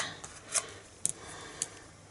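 Paper being cut out with layering circles dies, a few short crisp scraping and snipping bursts spaced apart, close and fairly quiet.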